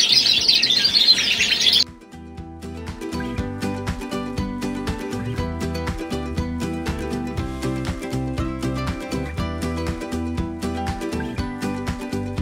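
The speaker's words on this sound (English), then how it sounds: "just a selection of really wonderful exotic birds" A dense burst of exotic birdsong and chirping fills the room at the Limburg posture canary show in October 2023, then gives way after about two seconds to steady rhythmic music that dominates the rest.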